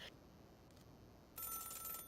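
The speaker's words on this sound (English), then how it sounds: "A phone's ringing." An electronic telephone ring in the video game Celeste: a short burst near the start, a brief faint blip, then a louder sustained ringing tone in the final stretch.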